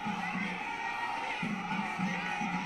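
A large crowd cheers and shouts in Kochi as Prime Minister Modi passes, a continuous dense roar with rising bursts of voices, steady and fairly distant.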